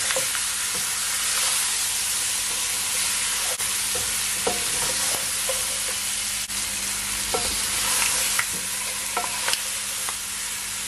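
Chicken drumsticks for Jamaican curry chicken sear in a pot with a steady, close sizzle, broken by scattered clicks and scrapes of stirring, no voices.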